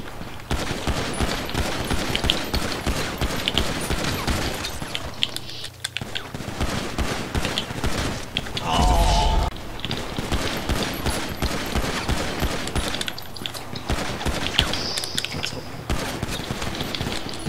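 Rapid bursts of gunfire in Grand Theft Auto V crackle repeatedly throughout, sharp and fairly loud, with a heavier blast partway through and occasional voices in the background.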